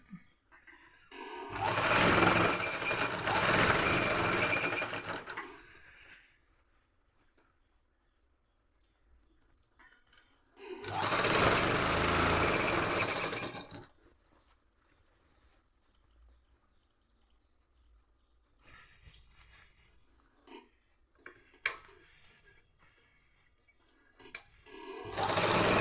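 Sewing machine top stitching a uniform, running in two loud sustained bursts of rapid needle chatter separated by pauses with faint handling and small clicks in between; no voices.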